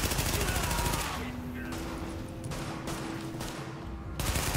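Rapid automatic gunfire in The Division during a hostage situation, loud dense bursts up front that thin out and then pick up again near the end.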